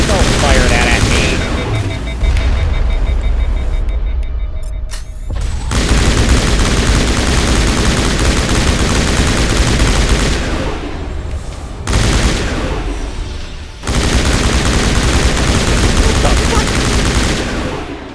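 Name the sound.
gunfire in space adventure video game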